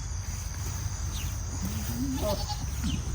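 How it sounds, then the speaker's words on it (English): Goats bleat on a farm over a steady hum of insects and outdoor noise. A few short wavering calls come from moderately close. "I think the goats are coming to see what y'all are doing."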